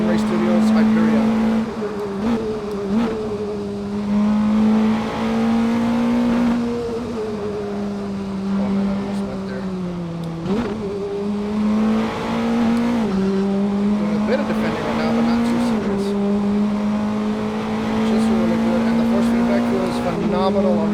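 Race car engines from a sim racing video game hum and rev steadily, with the pitch rising and falling through shifts and an occasional tire squeal. A voice is heard in the background.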